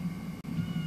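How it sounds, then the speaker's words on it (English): A single short cat meow, close and fairly soft, with a brief pause in the middle. "But what do I do with this cat?"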